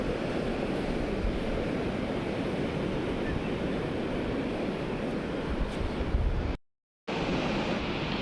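Sea waves wash onto the shore in a steady, loud roar of surf mixed with wind, continuous throughout apart from a brief cut near the end.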